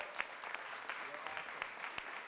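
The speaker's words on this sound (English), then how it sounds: "leadership of the very awesome Steve Banks, let's give him a round of applause" Audience at a New York City mayoral event for the 2016 HOPE homeless count applauding, a soft, distant patter of claps with a few sharper individual hits, fairly faint throughout.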